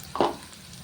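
Onions frying in oil until reddish, with curry leaves in the pan: a brief close burst of sizzle as they are stirred, then quiet.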